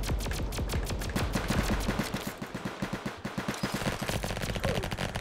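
A raygun in the Roblox game Flag Wars firing rapidly, a dense, steady stream of sharp zapping shots at a fast even rate, loud and continuous throughout.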